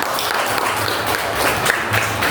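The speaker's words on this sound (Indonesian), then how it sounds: "Tepuk tangan buat Hasanah" Students in an Islamic religious-studies classroom clap for a classmate, a short, close burst of brisk, dense clapping with low room rumble beneath.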